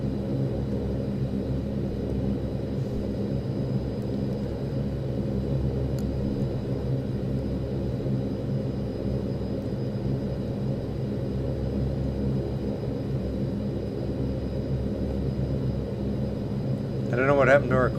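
Saab 340 twin turboprop engines in the X-Plane flight simulator, held at 65% power on the runway: a steady, loud low rumble and drone that stays constant throughout, with a brief rise near the end.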